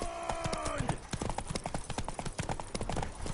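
Horse hooves pounding in a race in The Witcher 3, a quick rhythmic clip-clop of galloping that starts under a voice and some music, then runs alone and fairly close.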